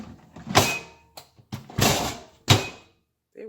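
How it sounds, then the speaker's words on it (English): A few close thuds and clunks with a brief mechanical rattle, the door of a Kalorik smart fryer oven being pushed shut, then quiet. "close the door."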